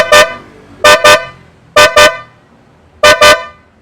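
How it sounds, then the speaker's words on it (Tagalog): A loud, bright Blaupunkt shell car horn on a Geely Okavango honks in short bursts, mostly quick double beeps with pauses between them, close up and nothing else audible. "ito namang isang shell horn, BBS 180BK"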